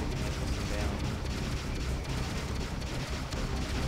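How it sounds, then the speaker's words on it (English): Missile fire and explosions rumble through a space combat scene in the video game Freelancer, a dense, continuous roar of blasts and booms with no clear pauses, loud and close throughout. "Incoming missile."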